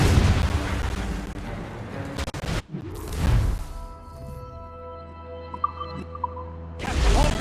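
Ship cannons fire in a naval battle in the video game Assassin's Creed Rogue, with loud booming blasts and a brief cut-off, followed by a quieter stretch with ringing tones and a sudden surge at the end.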